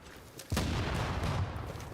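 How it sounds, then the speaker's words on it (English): A heavy video game explosion bursts in abruptly, loud and broad, then rumbles on with a sustained crackling roar that slowly eases off. "I'm kind of getting sick of the explosion sound."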